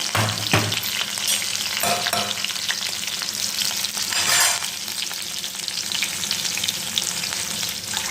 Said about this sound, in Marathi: आता त्याच्यानंतर मिरची आता ज्या मिरच्या आहे ह्या सुद्धा तळून घ्यायच्या चांगल्या